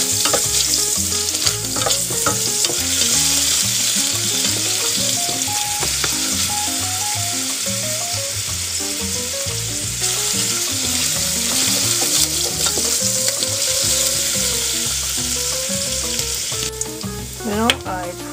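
Onions and other soup ingredients frying in a pan on medium to medium-high heat, a steady close sizzle running throughout with light stirring.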